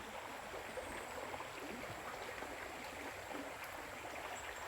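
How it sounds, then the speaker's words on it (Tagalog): Continuous gentle rush of flowing stream water, steady and even throughout, with no voices. "naririnig ko lang tubig lang. Mga tubig."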